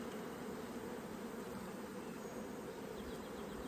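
Honeybees buzz in a dense, steady drone throughout an inspection of an open colony full of brood and pollen, a close, continuous hum with no voices.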